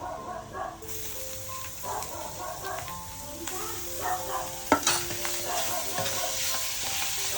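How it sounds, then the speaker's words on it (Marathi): Turmeric, coriander powder and homemade red chili powder sizzle as they are sautéed and stirred in a pan over a wood-fired stove for a clam curry with cashews, with scraping strokes and a sharp knock, while a voice talks underneath. "थोडं हळद टाकूया धना पावडर आपला घरगुती लाल तिखट परतून घेऊ"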